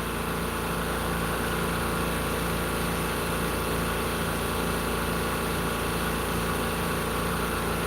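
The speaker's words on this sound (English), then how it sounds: "Hopefully you can hear me over that compressor." An air compressor runs steadily during laser engraving of tumblers, a constant loud mechanical drone with a dense broadband hiss that holds unchanged from start to finish, with no voice over it.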